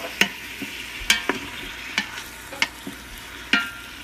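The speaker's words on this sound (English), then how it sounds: "So we're just going to saute this up a little bit." Sautéing Cajun-seasoned ingredients for red beans and rice in an Instant Pot, a quiet sizzle punctuated by five or six distinct spoon knocks and scrapes at irregular intervals.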